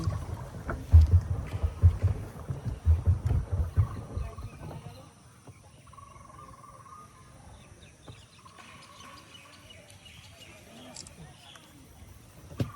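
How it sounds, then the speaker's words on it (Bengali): A boat ride on a river near Mangalganj: a low, rumbling motor drone is strong for the first five seconds, then drops to a quiet, hushed background with faint scattered sounds. "এই এই বোটটা করে আমরা যাচ্ছি।"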